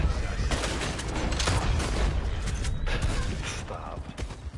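Loud, sharp pump-action shotgun blasts in Red Dead Online, fired point blank in quick succession with clattering mechanical sounds, dense and close.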